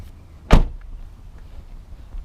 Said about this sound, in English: You can feel the quality when you shut the door.